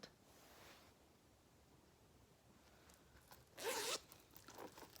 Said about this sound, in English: And here's a zipper pull for that.